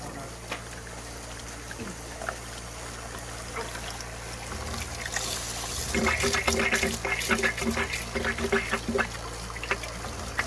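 Water running into a flush cart for a geothermal heat pump system, a steady trickle and pour that grows louder and busier after a few seconds, with mechanical hum and clatter underneath.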